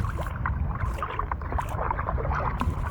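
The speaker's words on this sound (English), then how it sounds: "on some kayaks, paddling with our guide there" Kayaks are paddled on water near Sitka, Alaska, with close paddle splashes and gurgles under steady wind and boat noise.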